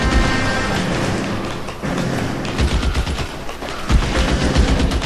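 Gunfire in the L.A. Noire game, loud rapid bursts of shots layered over a dense, continuous combat din that runs for the full span.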